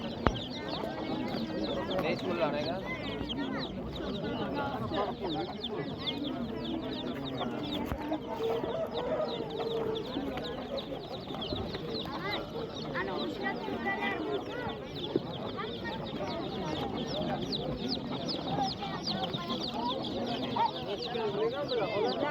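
Chicks of a black chicken breed cluck and cheep among other fowl at a busy open-air poultry market in G'ijduvon, a dense continuous chatter of birds with people talking throughout.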